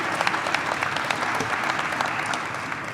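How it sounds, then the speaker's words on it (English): A briefing audience applauds for emergency workers after a windstorm, a dense round of clapping with distinct sharp claps standing out, steady throughout. "Let's give them a round of applause, because they really have done outstanding work."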